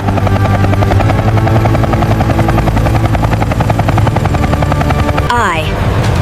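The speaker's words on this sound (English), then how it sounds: "H is for helicopter." A helicopter's rotor thrums in a loud, steady pulsing drone throughout, with a rising electronic whoosh sweeping up near the end.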